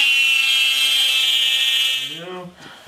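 A drill whines steadily on a YZ250 rear shock, a loud continuous high-pitched buzz that winds down near the end as a voice starts speaking.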